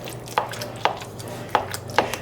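A wooden spoon knocking through stuffed pepper filling in a bowl, four separate soft clacks spaced at uneven intervals, close and fairly quiet with a low hum behind.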